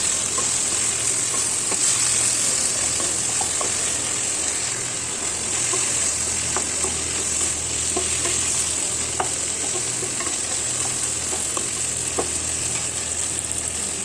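Cumin seeds, cumin powder and coriander powder fry in hot oil for a chicken stew. A steady, close sizzle runs throughout, with spoon scrapes and stirring clinks every few seconds and no talking.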